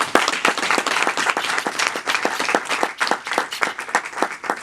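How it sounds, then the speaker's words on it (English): Audience applause at a Hands Up Don't Shoot youth movement event at UDC: dense, steady clapping from a crowd, loud and continuous for the whole stretch with no talk over it. "Another round of applause for this piece of work."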